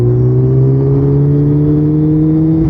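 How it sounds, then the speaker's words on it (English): Motorbike engine on a golden-hour ride home, a loud steady drone with rising harmonic pitch as it pulls along, close and continuous with wind rush, no talking. "oh, this bike sounds so good"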